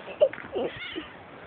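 A cat gives a short meow, then a softer drawn-out mew, close and brief, with people talking faintly around it.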